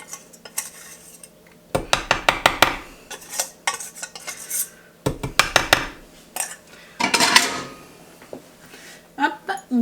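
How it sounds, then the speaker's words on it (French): A metal spoon mixes pieces of chicken and broccoli into sauce in a dish, with bursts of scraping and clinking against the sides that come in rhythmic clusters, close by and fairly loud, separated by short pauses. "On va venir donner un petit coup de cuillère pour bien que tous les morceaux soient enrobés dans la sauce"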